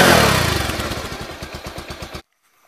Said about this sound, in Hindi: और एक्सीलरेट करने पे जो साउंड आता है वो भी सुन लीजिए।